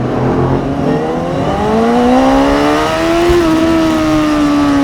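A Honda CBR600RR motorcycle at night races a McLaren 720S, its engine revving steadily upward in a loud, close, continuous climb of rising pitch.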